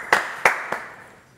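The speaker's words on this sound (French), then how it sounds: "C'est un drôle de titre, on va l'applaudir, Louis, quand même." A few sharp, separate hand claps ring out on a French TV show as a singer is welcomed, three distinct slaps spaced about a third of a second apart, fading quickly without any talk over them.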